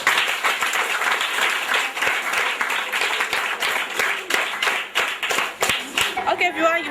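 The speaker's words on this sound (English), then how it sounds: "Another round of applause for her." A crowd at a schools debate claps and applauds continuously, dense and lively, with voices and cheering mixed in beneath the clapping.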